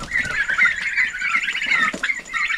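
Rapid, warbling bird calls ring out nearly continuously, a close flock of turkeys gobbling and chattering with brief pauses.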